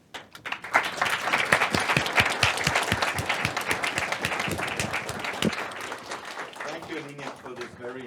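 An audience at a speech technology conference applauds after an invited talk, with dense, steady clapping that fades out near the end while a voice briefly starts speaking.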